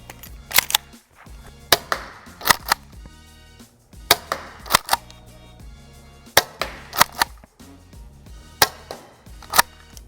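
A CAM MKII paintball/airsoft shotgun fires round balls in a quick series of sharp, snappy pops, often in close pairs, with clicks and clacks of the action between shots, nearby and without talk.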